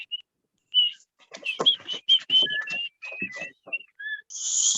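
Children whistle and chirp in imitation of birds, a scattered string of short, high tweets and trills from several voices at once, with brief gaps between bursts and a longer hissy whistle at the end.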